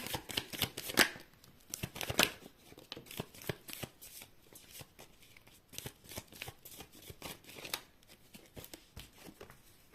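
Tarot cards being shuffled by hand in a quiet room, a dense run of crisp, rapid riffling clicks and flutters close to the ear, with brief louder bursts early on and no voice over it.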